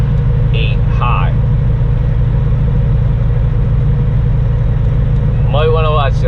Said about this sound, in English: I'll ease off from the throttle, and it'll shift into what would be 18th speed or 8 high.